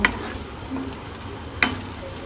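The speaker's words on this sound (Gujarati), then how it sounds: "તો તેલ ગરમ થઈ ગયું છે તો આપણે થોડા કાજુને આપણે ફ્રાય કરી દઈશું." Cashews frying in hot oil, a soft steady sizzle broken by two sharp stirring clinks near the start and later, close and fairly quiet with no talking.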